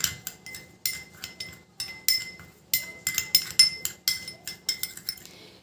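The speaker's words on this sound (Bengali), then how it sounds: "লেবুর রসটা ভালো করে আমি মিশিয়ে নিচ্ছি।" A spoon clinks repeatedly against a bowl while lemon juice is stirred in at home for a hair treatment, giving a quick, uneven series of bright metallic taps that stay close and clear, with no talking.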